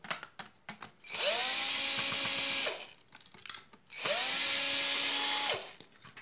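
Electric drill backing out screws on a vacuum cleaner motor, two sustained whirring bursts of about a second and a half each with rising spin-up and clicks between them, close and loud with no talk.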